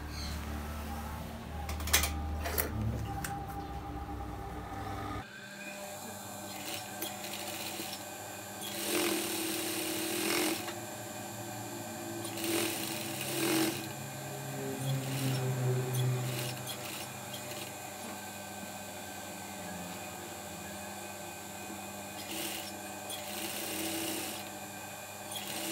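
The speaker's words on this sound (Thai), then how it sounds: "ทีนี้เราก็จะเย็บจากตรงจุดนี้มานะคะเราจะเย็บมาแล้วเราก็จะปักเข็มแล้วเราก็จะเย็บขึ้นมาทางนี้ค่ะ" A sewing machine stitching the fabric of a simple V-neck nightwear or casual top with built-in sleeves: steady mechanical whirring in several runs separated by short pauses, with some handling clicks early on.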